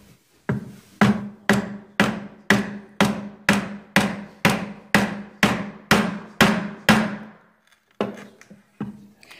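A mallet strikes a chisel cutting a mortise in wood at a workbench, about fourteen sharp, evenly spaced blows with ringing decays, a short pause, then a few softer taps.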